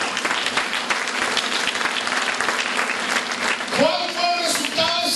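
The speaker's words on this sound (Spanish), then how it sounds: "Y ahora aplauso desde lo fuerte." A church congregation applauds loudly, a dense sustained roll of clapping that continues as a voice begins speaking over it near the end.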